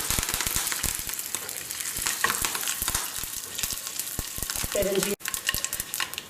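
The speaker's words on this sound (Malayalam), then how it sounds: "ഹൈലൈറ്റ് ഓഫ് ദ ഡിഷ് പെരുംജീരകം വറുത്ത് കൊട്ടുന്നു എന്നുള്ളതാണ്" Fennel seeds and curry leaves fry in hot coconut oil with mustard seeds for a Kerala egg drop curry, a close, crackling sizzle with sharp pops and spatters throughout, no talking.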